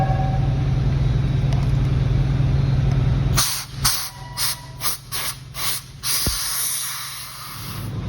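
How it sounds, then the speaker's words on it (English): Compressed air blowing grease and grime out of 1988 Suzuki Samurai seat parts, a steady low hiss followed by a string of sharp, loud bursts of blown air in short repeated blasts, heard alone up close. "And then I blew it out with air."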